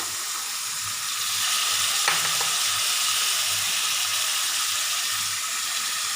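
Vegetables for veg noodles sizzle steadily in a hot pan, a close, continuous frying hiss with a brief stirring scrape partway through.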